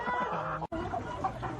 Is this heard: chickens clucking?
yes